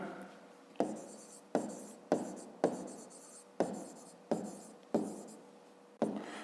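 A pen scratches numbers into a school notebook in a quiet room, eight short, sharp strokes each trailing off, spaced about three-quarters of a second apart, close and soft.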